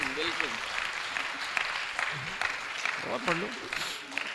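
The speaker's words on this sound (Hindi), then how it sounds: "चलिए एक बार तालियां बजा दीजिए" An audience at a Hindi comic poetry show gives steady applause. A continuous wash of clapping fills the whole clip while a voice speaks and exclaims over it, with a few louder bursts along the way.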